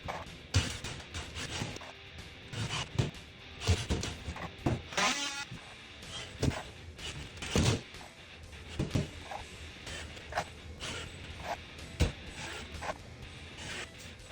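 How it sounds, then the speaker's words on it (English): Two-inch coarse-thread screws are driven through an inch-thick layer of drywall into studs, producing repeated short bursts of power-driver whirring and clicking at close range with brief pauses between screws and no talk. "I'm using 2-inch coarse threaded screws because it's an inch thick of drywall now, and into the studs penetrating 1 inch"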